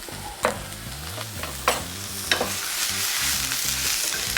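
Bavette steak searing in a hot pan with a sprig of rosemary, thyme sprigs and a garlic clove, a loud continuous sizzle close up, broken by several sharp spatters and clicks.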